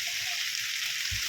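Bitter gourd (ampalaya) frying in a pan, giving a steady, close hissing sizzle throughout with a faint low clatter near the end, no voices.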